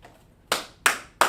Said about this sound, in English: Put some claps in there, hand claps in there.